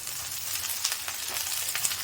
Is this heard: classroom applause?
no